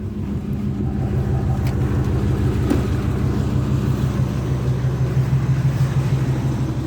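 A truck engine left idling at Moratock Park in Danbury, NC, a close, loud, steady low rumble with a pulsing throb that keeps going unchanged throughout.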